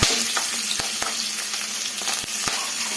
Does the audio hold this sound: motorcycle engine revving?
no